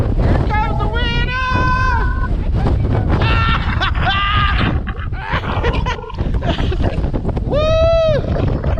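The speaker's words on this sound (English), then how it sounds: "Here it comes, the wind." Strong gusts of wind roaring during a bomb cyclone blizzard, a loud steady blast buffeting the microphone outdoors while people shout and exclaim over it.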